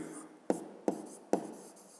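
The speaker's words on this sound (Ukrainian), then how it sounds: "Пишемо відповідь." An answer is written by hand in a fifth-grade maths exercise, with faint pen scratching on paper broken by three distinct taps about half a second apart, close and quiet.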